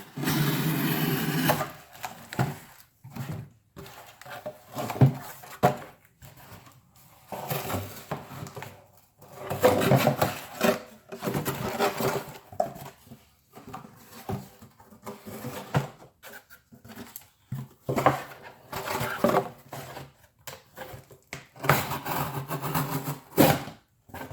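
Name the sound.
cutting with a Civivi Vexer knife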